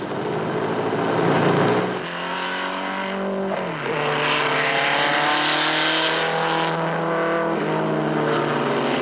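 Sports racing cars such as Cunningham C4R, Jaguar and Ferrari roar off at the start of the 1954 Le Mans 24 Hours in La Sarthe, France, a loud sustained engine din with rising revs and pitch sweeps as cars pass close by.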